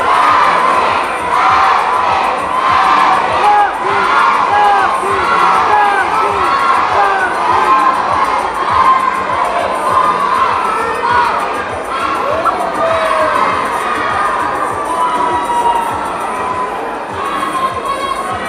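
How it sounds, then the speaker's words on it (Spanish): A crowd at a coffee-fair queen coronation in Zoquiapan cheers, whoops and shouts continuously for the whole stretch, loud and dense, with a brief announcer voice in the mix. "El aplauso fuerte para ella."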